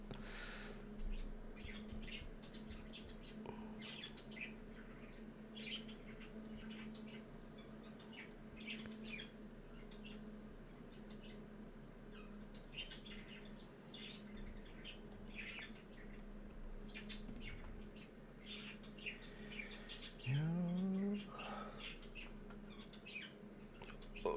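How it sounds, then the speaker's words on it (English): Faint bird chirps and tweets come from the background, scattered and distant, over a steady low indoor hum. One louder, rising call stands out near the end, and no one speaks. "It's actually just birds in the background."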